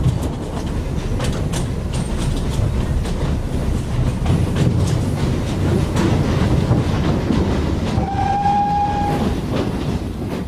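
A First World War troop train pulling out of Le Havre station, with a steady heavy rail rumble and rattle throughout and a brief horn or whistle near the end, loud and without voices.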